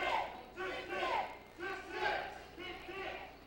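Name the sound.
crowd chanting "tick, tick" at a wrestling match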